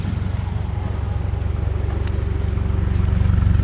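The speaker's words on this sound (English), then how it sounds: "let's hop out and listen to the exhaust here. This active exhaust, probably my favorite part of this vehicle" 2025 Toyota GR86 Premium idling with its active exhaust, a steady low rumbling burble heard close from outside the car, with a slight rise in loudness toward the end.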